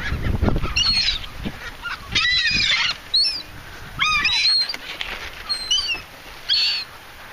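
Birds honking in short, goose-like calls by the water at Gulf Harbors, several bursts spaced irregularly over a low background hum, fairly close.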